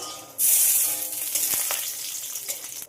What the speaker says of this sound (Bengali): এই গরম তেলে দিয়ে দেব চীনা বাদাম